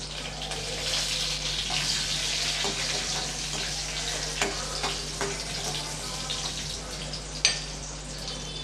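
Red chillies, curry leaves and spices crackle and sizzle in hot oil as a tempering for sambar rice, a steady close frying hiss with scattered pops and one sharper spatter near the end.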